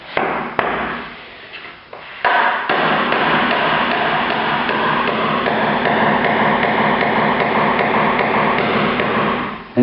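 A hammer driving cut nails into a skirting board near a room corner: a few sharp knocks early on, then a dense, loud, continuous stream of rapid impacts filling the rest of the clip.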